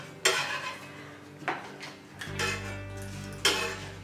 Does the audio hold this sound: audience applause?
no